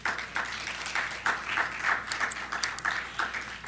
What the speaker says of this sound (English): So go ahead and give yourself some applause.